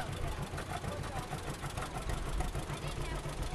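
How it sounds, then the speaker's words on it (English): An antique John Deere G tractor engine runs at a steady idle at an outdoor threshing show, a continuous low rumbling chug that holds at an even level throughout. "John Deere G. Very nicely done G, very lifty, very straight. Nice tractor."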